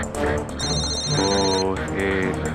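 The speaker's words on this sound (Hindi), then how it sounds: "आपका फोन बज रहा है" An office phone rings with a steady electronic ringtone, its repeating tones sounding close and continuous over background music and voices.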